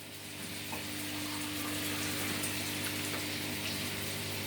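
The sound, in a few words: pouring half cup of water into chicken kofta pan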